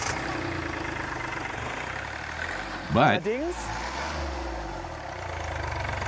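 A Hyundai i20's three-cylinder 1.1-liter diesel engine runs with a steady low drone throughout. A brief voice cuts in near the middle.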